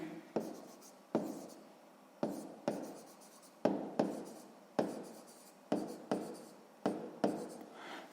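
A pen writes figures on paper during a sixth-grade maths exercise: a series of about a dozen short, scratchy strokes in an uneven rhythm, close and quiet, with no talking.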